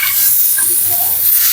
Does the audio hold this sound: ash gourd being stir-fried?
yes